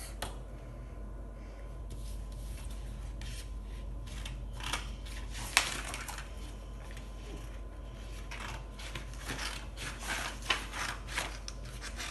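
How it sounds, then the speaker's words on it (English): Quiet, intermittent snipping and rustling of scissors cutting paper, with a few sharper clicks scattered through a faint room hum. "so now we're going to cut it out using some scissors."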